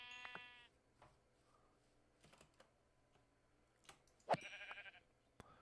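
Minecraft sheep bleating, two distinct wavering bleats at the start and near the end, mixed with sparse keyboard clicks and taps in quiet surroundings.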